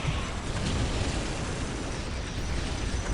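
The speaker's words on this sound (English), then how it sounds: "There we go, the Baneblade. Trundling along, opening fire." A Baneblade super-heavy tank opens fire during a 4v4 Imperial Guard versus Space Marines battle in Dawn of War Soulstorm, giving a dense, continuous rumble of blasts and explosions that stays loud and unbroken throughout.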